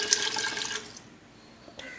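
Half a glass of water poured into a cooking pan of carrots, beans and chickpeas for vegetable semiya bath, a bright splashing pour for about a second that stops abruptly, followed by quiet room tone.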